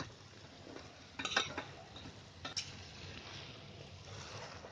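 Button mushrooms are stirred into gravy in a pan over low heat, giving quiet scraping and stirring with a couple of sharper utensil clinks against the pan over a soft background sizzle.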